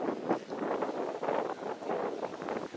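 Strong wind buffets the microphone outdoors at the Holy Ghost Church grotto in Dickeyville, a continuous rumbling roar with gusty surges, loud and close throughout.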